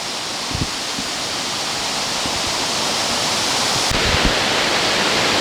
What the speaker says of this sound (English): Hopewell Falls. Not too bad.